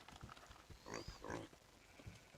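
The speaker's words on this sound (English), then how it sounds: "I have pigs, yes." Pigs grunting on a farm in the Medieval Dynasty video game, a few soft, short snorts and grunts in a loose cluster, faint and somewhat distant against a quiet background, with no talk.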